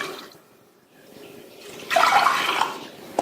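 Water poured into a pressure cooker holding washed toor dal, starting as a soft trickle and then turning into a louder, splashing pour for about a second before it stops.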